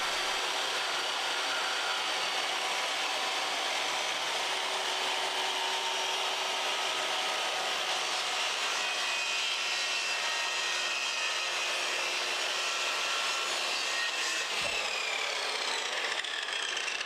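Triton TA235CSL 235mm precision circular saw cutting through wood, a steady, moderately faint whirring rasp that runs unbroken for about seventeen seconds with no voices.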